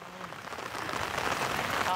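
Rain falls with a continuous patter that grows heavier and louder over two seconds, with a voice faintly underneath.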